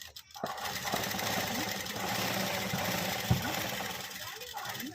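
A sewing machine stitches fabric with piping for dori work, a continuous mechanical whirring that holds steady across the stretch, with a small knock near the end.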